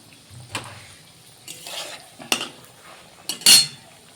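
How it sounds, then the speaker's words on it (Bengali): Malpua frying in hot oil in a pan, a soft bubbling sizzle beneath loud, scattered clinks and scrapes of a metal ladle against the pan, close up, with no speech. "দেখছেন তো কত সুন্দর হয়ে তেলের মধ্যে ফুটছে"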